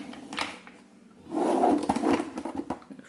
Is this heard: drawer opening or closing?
yes